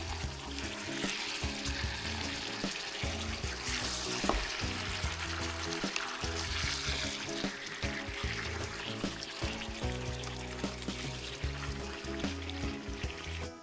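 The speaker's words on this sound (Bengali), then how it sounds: "এরপর হাই হিটে 5 মিনিটের জন্য মাংসগুলো ভেজে নেব।" Meat seasoned with salt frying in ghee in a pot over high heat, a steady dense sizzle and crackle with occasional bubbling and stirring, continuous and close.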